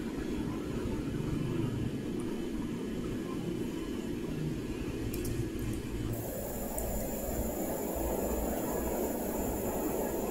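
A Boeing 777-300ER touching down at Kai Tak in Flight Simulator gives a constant loud engine roar and rumble, and the tone shifts partway through as the higher whine changes after landing. Nobody talks.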